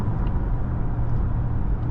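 A 2015 Acura MDX Tech SH-AWD SUV with a 6-speed automatic accelerates smoothly, its engine and road noise a steady, loud interior hum with no talking.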